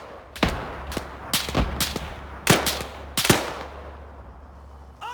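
Bursts of covering gunfire in a video game rattle out in quick irregular volleys, loud and close, then fade toward the end.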